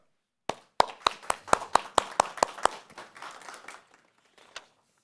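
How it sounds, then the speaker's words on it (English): Sparse audience clapping greets the partners of an India–Sweden innovation day event, about a dozen distinct hand claps in a brisk, uneven run before thinning into scattered claps and a lone final clap. "ladies and gentlemen, give them a big round of applause"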